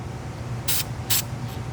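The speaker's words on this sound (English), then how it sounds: "we're just going to spray a very, very light amount of the red paint" Light red paint is sprayed onto the brake parts of a Mercedes GLA45 AMG in two quick, close hissing bursts, followed by a fainter third puff, over a quiet background.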